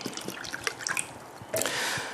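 Water poured from a freshly opened bottle of electrolyte drinking water, close up: scattered drips and splashes, then a steady trickling pour in the final half second, with no talk.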